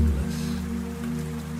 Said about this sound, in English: The rain continues, a constant backdrop to this play of eternity, endless, timeless,